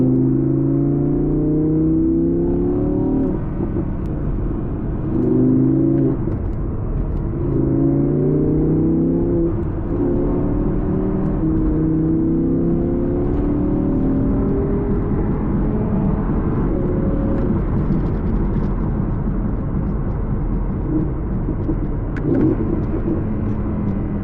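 A V10 Audi R8 on a backroad drive revs sharply on repeated downshifts. Several rising engine blips roll over a steady cabin rumble, heard from inside the car.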